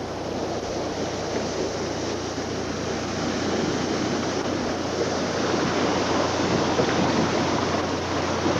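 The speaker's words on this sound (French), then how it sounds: "Le bruit du vent dans les cordages fait penser à des animaux à l'abattoir." Strong storm wind roars steadily through the rigging of the Cape Horn sailing ship Peking in 1929, mixed with broad rushing sea noise, loud and unbroken throughout.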